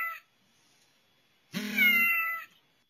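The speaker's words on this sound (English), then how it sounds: "That actually is my cat." A cat meows once from a mobile app, a single clear, drawn-out meow lasting about a second, loud and close after a short earlier sound and silence.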